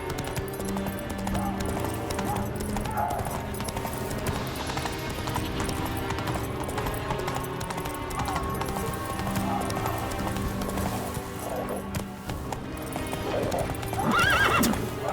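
Roach the horse trots in The Witcher 3, hooves clip-clopping steadily, then gives a whinnying neigh near the end, all over a continuous game ambience.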